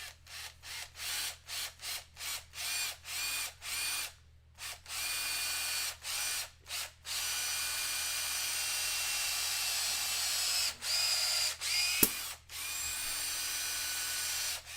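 A power drill bores into a 3D-printed Silver Surfer figure with a close, steady high whine, broken into many short bursts and pauses as the bit is pushed in and pulled back. No one speaks.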